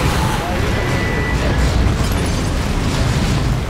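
A high power shot goes off in Dawn of War 2, a loud, rumbling blast with crackling debris that fills the whole stretch, dense battle noise with no clear gaps.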